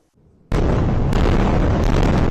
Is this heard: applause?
no